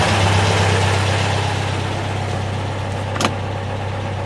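A Porsche 912 engine idles at a little over 1,000 RPM on Dellorto DRLA carburetors, a steady low throbbing rumble close by, with a single brief sharp click near the end.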